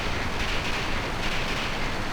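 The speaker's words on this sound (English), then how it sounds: "Stop the train!" Steady rumbling train motion from Final Fantasy VIII Remastered, a continuous dense rolling noise held at an even, fairly loud level throughout, with no voices over it.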